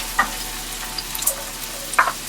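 A medium onion sautés in olive oil in a hot pan, a soft steady sizzle with a few sharper crackles and a stir or two, faint and close.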